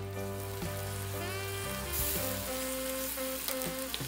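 Soy sauce hits a hot pan of frying rice and sizzles in a steady, close hiss, with faint tonal hum and clinks running through.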